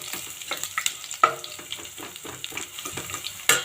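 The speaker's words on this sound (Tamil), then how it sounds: "போட்டுட்டு நல்லா பூண்டு வாசனை வர அளவுக்கு வதக்கிக்கலாம்." Garlic and curry leaves sauté in a hot pan for a fenugreek curry, giving a steady close sizzle broken by scattered spatula scrapes and stirring clicks, with no voices.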